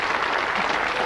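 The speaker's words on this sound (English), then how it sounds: "Give them a big round of applause, everybody." Studio audience applause on a 1991 TV quiz show, a brief, fairly soft wash of clapping with no distinct voices.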